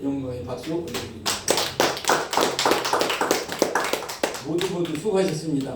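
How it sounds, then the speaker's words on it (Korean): A church congregation claps together during a Sunday afternoon worship service, a brisk run of many overlapping hand claps, close and lively, with voices heard around the applause. "하나님께 영광의 박수 올려드립니다"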